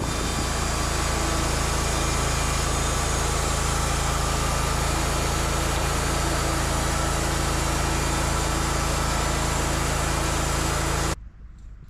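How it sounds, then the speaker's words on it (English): An electric circular-saw debarker cleans a big fir log at a sawmill, just ahead of the main saw blade. The sound is a loud, steady motorized whine that runs unbroken and then cuts off abruptly near the end. "This fabulous gizmo is called a debarker, and it's simply an electric circular saw blade that cleans the log just in front of the saw blade"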